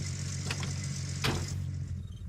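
Idling car engine in the video game Gold Rush, a steady low hum running without a break for a couple of seconds, with a brief faint clatter partway through.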